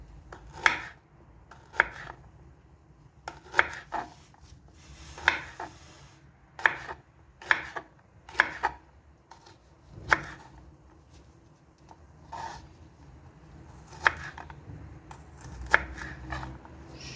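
A knife cuts jalapeño peppers for pickle on a board, giving about a dozen crisp, close chops spaced irregularly with quiet gaps between, and no talking.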